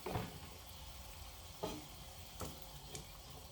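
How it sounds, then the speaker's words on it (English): Half a pound of 80-20 ground beef simmers in a pan with water and seasonings, giving a steady soft sizzle and bubble with a few brief stirring knocks, fairly quiet and close, with no talking. "So I'll let that simmer just a couple minutes"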